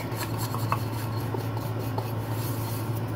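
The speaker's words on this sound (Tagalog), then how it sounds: "para matanggal yung extra cornstarch, lagay lang natin siya sa sifter" Injeolmi rice cakes dredged in cornstarch are shaken in a sifter to remove the excess, giving a soft, steady rasping rub over a low constant hum, close and continuous with no talking.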